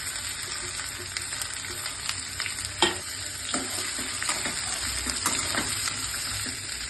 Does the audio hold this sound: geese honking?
no